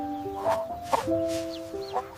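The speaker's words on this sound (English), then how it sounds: "This is a hen." A hen clucks in short, close calls, a few brief bursts over a faint steady background tone.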